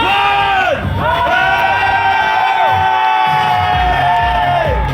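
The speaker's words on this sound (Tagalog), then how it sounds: "Sigaw-sigaw at sabay-sabay tayo." A large crowd shouts and cheers together at an anniversary event, loud sustained whoops and yells with rising and falling pitch, close and continuous throughout.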